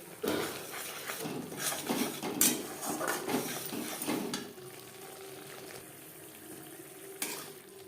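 Ground spices cook in oil in a pan for a vegetarian navratan korma, with stirring scrapes and utensil clatter over a soft sizzle that settles into a quieter, steady fry.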